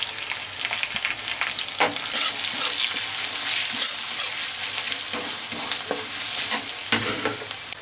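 Red chilli, coriander, cumin and turmeric powders hitting hot oil while making dry arbi masala, giving a loud continuous sizzle with scraping stirs throughout.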